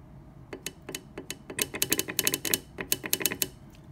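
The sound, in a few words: solenoid of a Prius Prime heat pump reversing valve clicking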